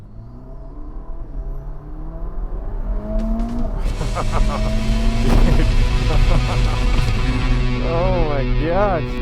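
A Ferrari SF90 on hot laps at Circuit of the Americas revs and accelerates hard, its engine note climbing through gear changes with tire noise, loud and close from inside the car, with talk underneath.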